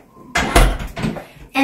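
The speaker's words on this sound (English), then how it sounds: "So now I'm going to close the door because we don't really need the washroom anymore." A hotel washroom door swings shut with a loud close thump and rattle, followed by a brief second knock, heard close up.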